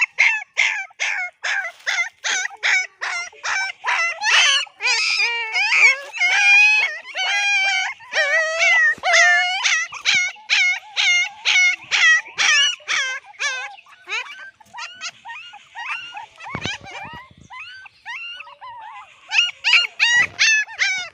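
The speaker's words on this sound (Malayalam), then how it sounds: "പട്ടിക്കുട്ടികളാ ആ അഞ്ചെണ്ണം" Five puppies whimper and howl in a long series of high, wavering cries, one after another with brief gaps, close by and fairly loud.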